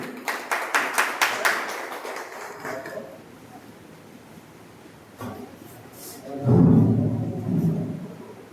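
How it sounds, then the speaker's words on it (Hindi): A small crowd at a government land-consolidation office retirement farewell claps in a brisk burst for about three seconds, then the clapping thins into a low room murmur, and voices rise near the end. "चलिए बहुत बहुत ताली बजाइए जोर से।"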